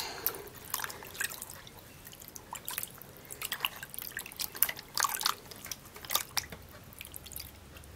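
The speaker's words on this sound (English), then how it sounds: "I'm going to be washing, dipping my hands inside, and then I'm going to be washing it off." Hands dip into and splash about in a basin of water, with irregular drips, sloshes and wet squishes scattered throughout, close up and moderately loud.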